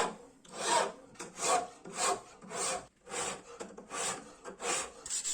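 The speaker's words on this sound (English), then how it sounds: "Bevel filing." Hand filing of the bevel on a small pocket knife blade, about eight rhythmic rasping strokes at an even pace, close and clear with nothing else heard.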